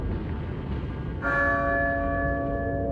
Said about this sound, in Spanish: Oh, la campana.